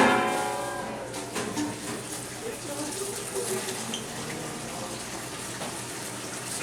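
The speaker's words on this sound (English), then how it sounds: "fill our pot with water" Tap water gushes steadily into a cooking pot at an outdoor lakeside cooking setup, a continuous close splashing hiss that holds evenly for several seconds.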